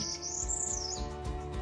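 Birds chirp outdoors beside an off-grid tiny house build site, one bright rising and falling call carrying clearly over a steady low hum of background noise.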